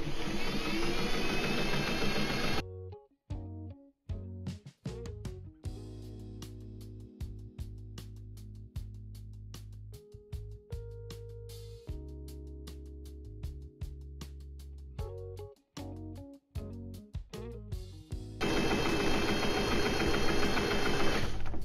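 A home sewing machine stitches a fabric table runner in bursts of steady whirring, stopping and restarting several times with a short reverse to lock the stitch; close and loud, with a louder continuous run at the start and end.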